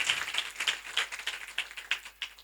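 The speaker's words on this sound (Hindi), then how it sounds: "जोरदार तालियां खुदा के लिए बजा दीजिए, जोरदार तालियां बजाइएगा, जोरदार तालियां" A church congregation claps together in a quick, steady rhythm, a dense run of sharp handclaps at moderate distance with no talking over it.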